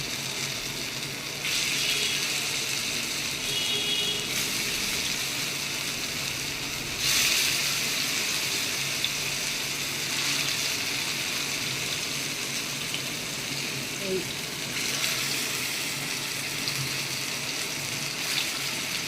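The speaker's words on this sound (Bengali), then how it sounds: "এবার আমি এই একটা একটা করে পিস তেলের মধ্যে দেব দিয়ে এবার এগুলোকে ভেজে নেব" Pieces of battered taro leaf fritter fry in hot oil with a continuous hissing sizzle that swells in brief bursts, steady and close, with no talking.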